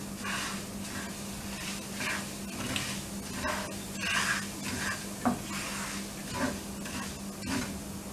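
Fennel seeds roast in hot oil for a methi achar fenugreek pickle, with the stove off, giving a steady, soft, continuous sizzle and hiss and faint crackles throughout, and no talk.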